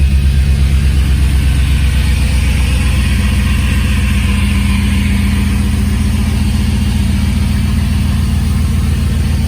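A 5.3 LS V8 swapped into a Jeep YJ idles steadily up close, a loud, even low rumble with a faint rhythmic pulse and no voices over it.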